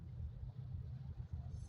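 Car engine rumble from a vehicle driving through flood water on a Dubai street, a steady low drone throughout with faint splashing texture, fairly near.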